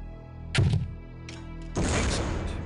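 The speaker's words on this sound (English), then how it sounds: "Now, destroy the target with a grenade." Grenade launcher in Soldier of Fortune 2 firing at a target: a hollow thunk of the launch, a pause, then a heavier blast with a rumbling tail, all close and loud.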